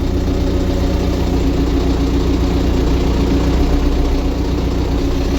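A small cab tractor engine of 24–40 horsepower runs at a steady, close, loud drone with a low rumble and no change in pace.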